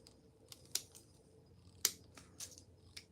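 Garden shears snip a jabuticaba branch while a scion is trimmed for grafting: two sharp cuts, one early and one later, with a few softer clicks between them, close and fairly quiet, with no talking.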